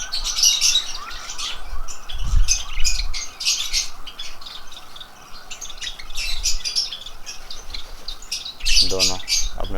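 Lovebirds in a breeding colony chirp and squawk continuously, with dense, overlapping bright calls close by and a few louder bursts.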